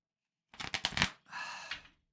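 A deck of oracle cards riffled and shuffled close up, a quick burst of sharp flicking snaps followed by a softer, sustained sliding rustle.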